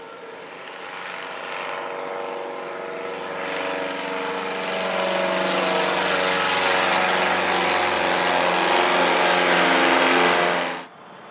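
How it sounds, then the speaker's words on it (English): A float plane takes off on the Chena River in Alaska, its propeller engine droning and building to a loud roar over about ten seconds before cutting off abruptly. "the passengers got to see a float plane taking off on the Chena River"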